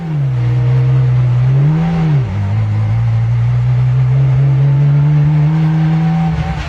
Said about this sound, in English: Godfrey today drives the car he made with his own hands from scratch.